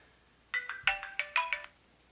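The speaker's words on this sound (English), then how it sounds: "we got it turned on and it does still make noises" An old iPod sounding a short series of bright electronic beeps and chimes after being switched on, about six quick tones over a second, faint and close, with no voices.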